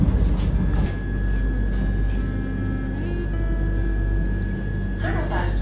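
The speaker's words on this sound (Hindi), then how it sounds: "तो ये देखो रायकोट रेलवे स्टेशन पे अपनी ट्रेन आ चुकी है और ये है कुछ ऐसी वंदे भारत ट्रेन" A Vande Bharat Express train arrives at a railway station platform with a continuous low rumble and a steady whining tone, while a person talks over it.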